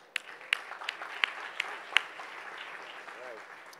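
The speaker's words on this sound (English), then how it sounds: "please give a warm round of applause for Hakeem Mohammed from Loud House." An audience at a startup pitch event claps: sharp, evenly spaced claps that fade into a softer, scattered round.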